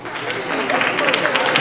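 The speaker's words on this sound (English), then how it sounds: "Pretty pitiful claps." Comedy show audience at CMU giving a thin, weak round of clapping, scattered claps rising slightly under talking.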